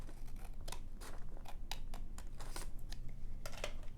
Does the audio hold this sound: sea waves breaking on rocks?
no